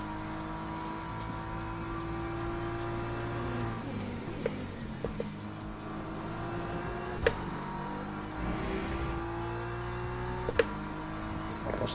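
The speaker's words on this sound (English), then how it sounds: "2 more hypercars fighting with each other" Hypercars race at Imola in a multi-class racing game, with steady layered engine drone, a few sharp clicks and bumps over the top, and no one talking.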